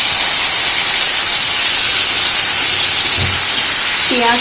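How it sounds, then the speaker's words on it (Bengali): Onion and tomato pieces sizzle in hot mustard oil in a pan, a loud, steady hiss that fills the whole stretch without a break. "তেল গরম হলে এর মধ্যে আমি একে একে দিয়ে দেব পেঁয়াজ আর টমেটো কুচি।"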